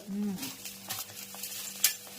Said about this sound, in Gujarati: ભૂંગળી તળાય છે